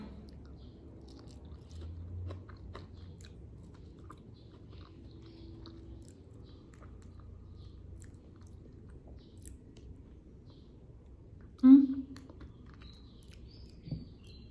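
Durian being chewed, with soft, moist squishing and occasional faint bites, quiet and close, plus one sharper louder bite near the end.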